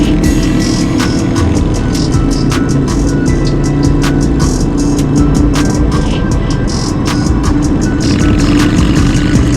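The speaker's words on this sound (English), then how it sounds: "Man, that Honda Shadow sounds really nice." A Honda Shadow motorcycle fitted with a Cobra slip-on exhaust rumbles steadily while riding on open road, its low engine drone continuous and close, mixed with broadband wind rush and no voices.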